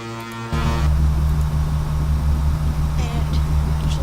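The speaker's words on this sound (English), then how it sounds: "I'm honking the horn right now." A ship's horn in a video game, sounded by pressing a key, blares as a loud, sustained low tone that starts abruptly and holds steadily to the end.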